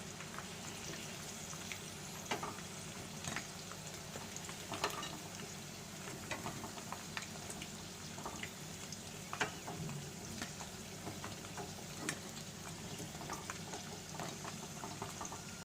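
Chicken pieces deep-frying in hot oil for chicken Manchurian, a soft, steady bubbling sizzle heard from a little distance, with occasional faint clicks and taps.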